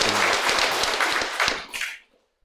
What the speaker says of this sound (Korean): 이제 박수 그만 치게 할게요